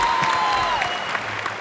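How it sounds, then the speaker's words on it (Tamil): Studio audience on a television show applauding a prize winner, steady clapping under a sustained musical tone, fairly loud throughout. "மீண்டும் ஒரு பெரிய பெரிய கைத்தட்டல் கொடுத்துடலாம் மக்களே"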